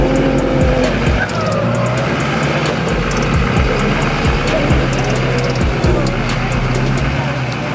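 At a nighttime street meet in Tennessee, a car spins its wheel with a steady, continuous tire squeal and roaring engine, loud and close, while crowd noise and people talking carry on underneath.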